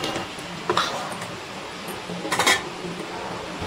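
Rice with lemon juice being stirred in a metal pot, a few quick spoon clinks and scrapes against the pot over a low background, no talking.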